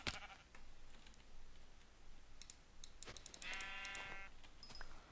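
A Minecraft sheep bleats once in a wavering cry amid the game's ambient sounds, with scattered clicking and keyboard tapping from play around it.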